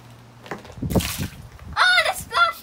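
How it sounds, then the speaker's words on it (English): Small Shopkins toys tossed into a mini pool filled with water and Orbeez give a couple of quick close splashes and slaps, followed by excited voices talking. "Oh, they splashed me!"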